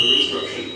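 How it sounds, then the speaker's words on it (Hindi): Field hooter of a Siemens FC922 fire alarm panel sounding during a test, a steady loud electronic tone that holds continuously under a voice. "अभी जो हुटर बज रहा है वो फील्ड का हुटर बज रहा है।"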